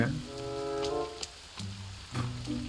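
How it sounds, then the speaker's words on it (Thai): Steady rain patters and hisses over the ambient backdrop of the game The Forest, with a sustained low musical tone underneath and a few soft thumps. "ฝนเทลงมา"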